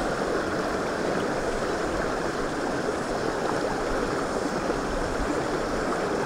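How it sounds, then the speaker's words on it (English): Steady broadband rush of a side stream flowing into a river in Te Urewera, New Zealand, a continuous close water roar with no pauses or voices. "There's a side stream joining here."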